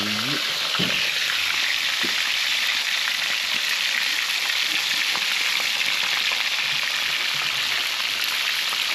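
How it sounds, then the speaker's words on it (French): Fish fries in a pan at a family meal in Madagascar, giving a loud, dense, continuous sizzle and crackle heard up close from start to finish, with faint background sounds and no clear talking. "Je fais cuire le poisson."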